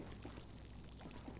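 Petrol glugging out of a gas can as it is splashed around a house in GTA V, a steady quiet pouring wash with faint splashes, no talk over it.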